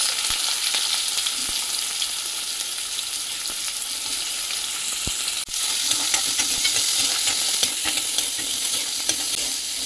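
Onions, cumin and mustard seeds fry in hot oil, a loud, steady, dense sizzle running throughout with faint stirring scrapes and no talk.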